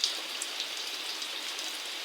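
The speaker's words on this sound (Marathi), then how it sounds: "अचानक भयानक हा एवढा पाऊस आलेला आहे" Dense, steady rain hisses loudly and evenly, a continuous downpour with no voices.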